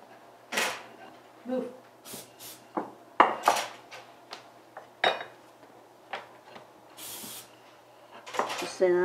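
Cooking spray hisses onto metal cups for Italian bocconotti cookies, several short bursts spaced through the clip amid clinking pans and utensils, with voices talking in the kitchen.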